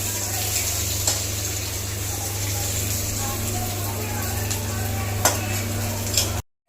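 Fish head soaked with bottle gourd is poured into fried onions in a pan, giving a steady loud sizzle of frying with occasional clinks of a stirring utensil, close and continuous before a sudden cutoff.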